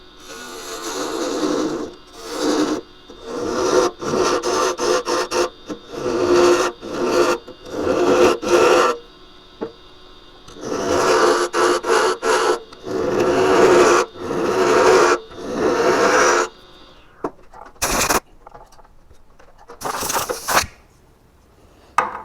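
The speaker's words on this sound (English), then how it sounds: "I'm going to take a little bit off the top edge here, clean this lip up a little bit" Gouge cutting the top edge of a heavily spalted wooden stacking box on a woodturning lathe, a loud rasping, scraping cut in repeated bursts with short pauses between passes.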